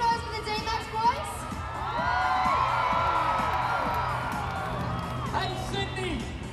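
Crowd at the Sydney Royal Easter Show cheering, whooping and shouting for D-Max cars, a sustained swell of high-pitched yells and screams after an announcer's voice, with the cheering fading near the end.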